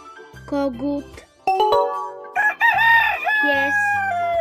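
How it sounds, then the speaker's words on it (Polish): A rooster crows once, loud and near, within short children's puzzle game sound effects and tones. "kogut,"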